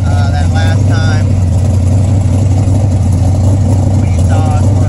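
Engine of a 1976 Chevy C20 pickup with its exhaust fitted, running loud and steady with a deep low rumble, while a person talks briefly over it.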